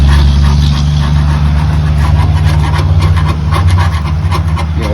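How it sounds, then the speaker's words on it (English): A noisy pickup truck engine runs steadily close by, producing a loud, continuous low rumble with a rough, rattling edge and no pauses. "Noisy pickup truck."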